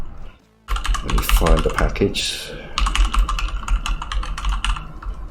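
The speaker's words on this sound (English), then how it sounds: "I do apologise if my keyboard is clicky." Clicky computer keyboard typing picked up by a microphone placed right next to it, rapid irregular key clacks running through most of the stretch while someone speaks over parts of it.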